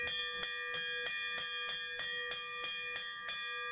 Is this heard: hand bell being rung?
yes